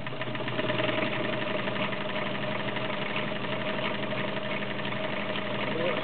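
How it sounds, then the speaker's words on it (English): A vintage Kenmore 1303 heavy-duty sewing machine runs a zigzag stitch with a smooth, continuous whirring hum and fast rhythmic clatter, close and steady throughout. "It runs smooth, has nicely balanced stitching. All around, good running machine."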